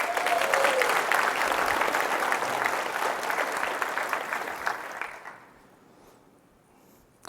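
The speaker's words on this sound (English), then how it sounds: "I think they need a round of applause for that one too" A conference audience at the Roblox Developers Conference applauds, a full room of steady clapping that lasts about five seconds before quickly dying away into near silence.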